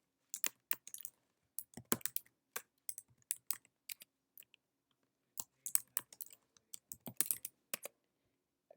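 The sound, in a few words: typing a password on a computer keyboard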